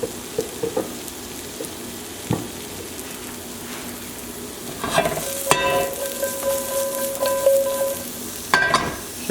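Mushrooms frying in a pan for chicken Diane, a steady close sizzle with stirring clatter and a few sharp utensil knocks, no talk.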